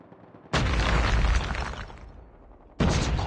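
Frag grenade blasts in Call of Duty Mobile ranked Hardpoint play: a loud, close boom bursts out and rumbles for over a second before fading, followed by a second sharp blast near the end.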